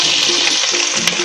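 Onions frying in hot oil in a pan for palak soya chaap, a loud close continuous sizzle and crackle with a slight stirring movement and no talking.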